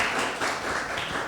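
Applause from a youth church service congregation, a dense, continuous patter of many hands clapping at moderate volume with no speech over it.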